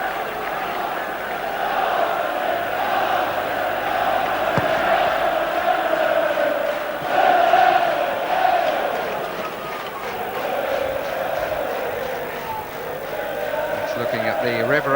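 Packed stands at a 1994 FA Cup fourth-round match between Norwich City and Manchester United keep up a steady, loud crowd song that fills the whole stretch with continuous chanting, while a commentator talks over it.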